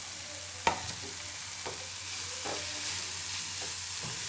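Carrot and capsicum cooking in a pan for a paneer bhaji, giving a steady low sizzle with a few spatula knocks and scrapes as the vegetables are stirred.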